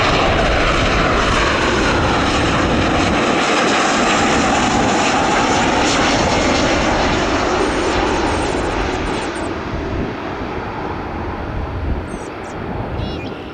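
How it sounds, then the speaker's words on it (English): A United Airlines airliner in Star Alliance special livery arrives at O'Hare International Airport, a loud, roaring engine sweep passing close overhead, then slowly fading, with wind buffeting the microphone. "Then another United flight came in."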